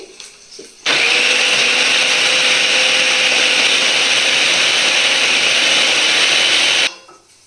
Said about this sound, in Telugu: ఇది మనం బ్లెండ్ చేసుకోవాలండి